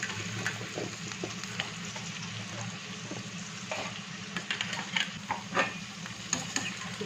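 Onion and capsicum are stirred in a hot pan for chilli chicken: steady sizzling and frying with repeated scraping, clicking spatula strokes, close and moderately loud with no voices.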